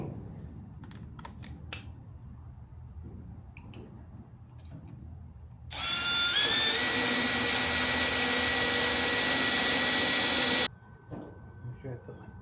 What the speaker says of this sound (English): put pocket holes at either end of these ceiling joists to fasten into the stud and the top plate of the wall